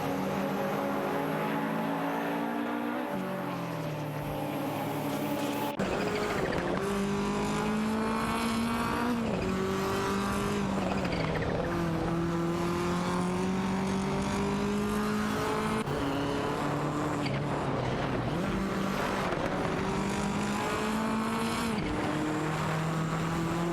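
Race cars battling on track in a racing video game, a Nissan Skyline GTR R32 pressed by a Ford Sierra RS500, with engines droning and shifting pitch loudly and continuously throughout, no voices.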